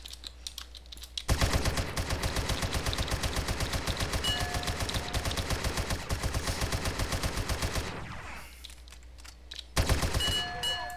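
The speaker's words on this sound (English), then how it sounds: "Who's shooting me?" Gunfire in the video game DayZ: a long, loud, rapid stream of automatic shots rattles continuously for several seconds, stops, then resumes in a short burst near the end.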